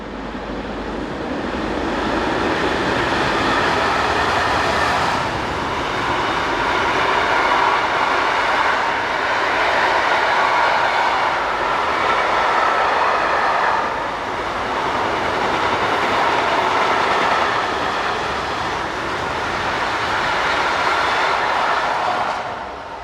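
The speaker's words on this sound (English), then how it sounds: "Here 189063 heads a train east." Electric locomotive 189063 hauls an eastbound freight train past, a loud continuous roar of rolling wagons with clattering wheel noise that swells and eases in waves over more than twenty seconds.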